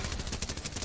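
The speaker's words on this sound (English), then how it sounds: "I think there might be gunshots." A quick burst of rapid video game gunfire in Fortnite, several shots in fast succession, fairly faint and slightly muffled.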